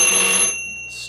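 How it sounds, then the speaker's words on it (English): A board-game alarm from a 1971 spy game, Super Spy, going off as a bright, steady electronic ring with high sustained tones for about half a second, then cutting off, with a brief faint chirp near the end. "Then you triggered that alarm."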